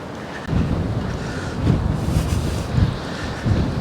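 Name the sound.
strong wind blowing at the beach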